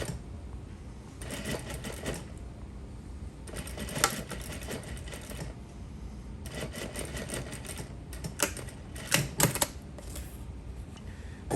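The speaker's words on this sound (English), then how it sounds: "So that side is getting it stitched down with the top stitching that goes through the top layer, facing, and zippers." A sewing machine topstitches through the top layer, facing and an exposed zipper, running in several steady whirring bursts with brief pauses between them, close and continuous.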